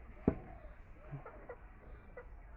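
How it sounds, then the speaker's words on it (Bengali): Chickens being fed grain cluck softly in short scattered calls, faint and somewhat distant, with one louder sharp knock near the start. "মুরগিকে খাবার দেওয়া হচ্ছে।"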